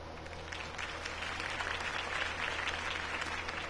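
Crowd applause in the video game Batman: The Telltale Series, dense clapping that holds at an even level throughout.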